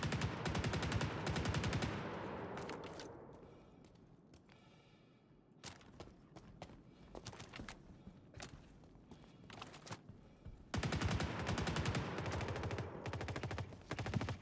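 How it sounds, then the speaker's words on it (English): Heavy gunfire from big guns in the Star Citizen video game, loud dense bursts and rapid volleys filling the opening seconds, then scattered shots, before another sustained barrage erupts near the end. "Big guns."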